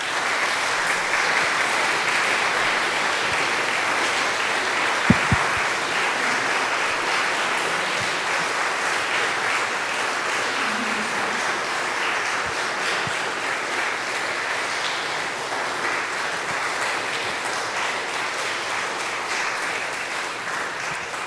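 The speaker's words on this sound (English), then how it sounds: "for another round of applause" An audience at an organ tribute concert applauds, dense sustained clapping that fills the whole stretch at an even level, with no voices over it.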